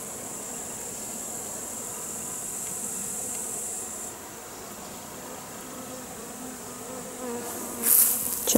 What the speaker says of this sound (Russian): Пчела летает.